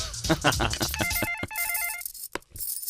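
A telephone rings in a film scene, an electronic trilling ring in two short bursts, heard between brief bits of speech and scene sounds.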